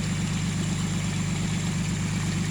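A water pump engine drains Nong Bua pond, idling with a steady, close, low rumbling drone and constant vibration, unbroken for the whole stretch with no voices.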